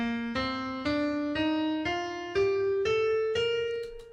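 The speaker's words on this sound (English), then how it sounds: "get familiar with the sound of the major scale" Eight clear single notes step upward one after another through a major scale, each plucked or struck tone ringing briefly before the next, played alone and quite softly.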